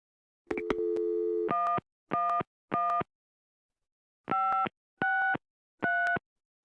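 Telephone busy signal in the Gabriel Knight video game after a number is dialed: one long tone, then a run of evenly spaced beeps that repeat, clear and alone.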